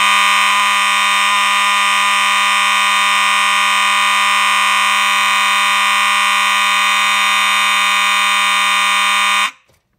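Simplex 4903-9217 fire alarm horn sounding continuously, a loud harsh steady electronic blare held unchanged for over nine seconds before stopping abruptly.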